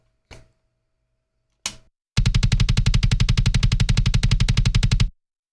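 An unprocessed, soloed kick drum from a modern metal mix gives two isolated thumps, then a long, fast, evenly spaced double-kick burst of dozens of punchy hits, loud and close.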